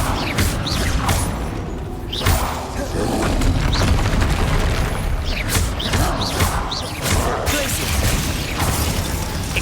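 Spells cast in the video game Hogwarts Legacy burst out in a loud, dense string of booms, crashes and whooshing blasts, one after another.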